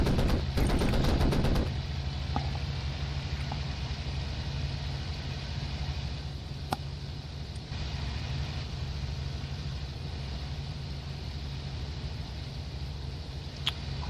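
A rapid burst of heavy Bf109 cannon fire in the game Cliffs of Dover at the start, then a steady aircraft engine drone with a few isolated sharp cracks.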